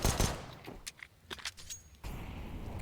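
Counter-Strike gunfire on the Inferno map in a BIG vs OG playoff match, a scatter of sharp, fairly quiet shots and clicks in irregular bursts followed by a steady background rumble.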